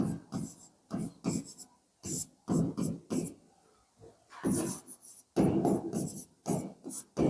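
A pen scratches out a handwritten note in short bursts, close and fairly loud, each stroke cluster separated by brief pauses in an uneven rhythm.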